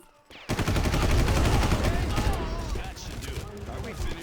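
Rapid gunfire in the video game Far Cry erupts after a brief quiet start, a loud dense burst of shots that holds and slowly eases over a few seconds.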